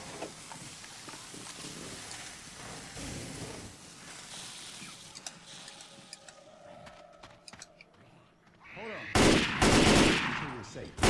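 Gunfire in the zombie shooter game Dead Air at a construction site, scattered shots under a busy game mix, then a loud close burst of rapid fire near the end.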